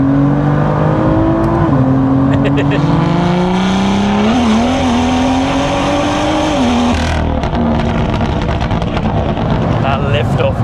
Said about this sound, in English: That liftoff noise. That typical M2 noise.